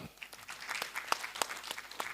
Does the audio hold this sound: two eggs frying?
no